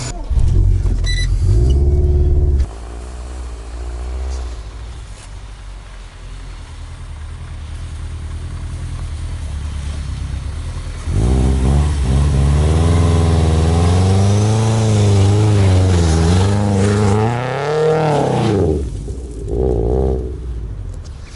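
A Subaru Forester STI with a six-speed manual gearbox labours over a diagonal-hang off-road test, its engine droning loud and near, then revving hard in rising and falling surges before dropping off.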